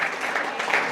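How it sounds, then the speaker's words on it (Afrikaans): Church congregation clapping steadily and densely throughout, a continuous full wash of applause with no pauses. "Kom ons gee hande klap vir die Here."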